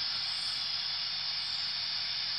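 A Dapol Gresley A4 Silver Fox model steam locomotive in LNER silver livery gives off a steady, unbroken steam hiss that holds at an even level from start to finish, with no other sounds.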